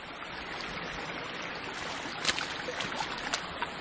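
River water flows and rushes steadily in a woodland setting, a broad continuous wash with a few brighter splashes near the end, close and alone without voices.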